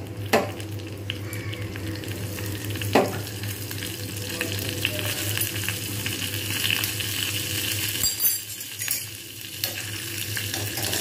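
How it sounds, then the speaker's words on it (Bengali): Whole cumin seeds and dried chillies tempering in hot oil for moong dal with jackfruit seeds: a continuous close sizzle and crackle, with a couple of sharp utensil knocks against the pan. "তেলটা গরম হয়ে গেছে, এর মধ্যে আমি গোটা জিরে আর শুকনো লঙ্কা এটা কিন্তু আমি ফোড়ন দেবো।"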